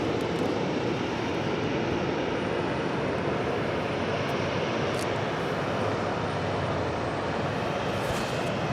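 A United Airlines Boeing 757-200 in Star Alliance livery, arriving at LAX from Newark, passes with a loud, sustained engine roar that fills the whole stretch, broadband and steady, with no speech.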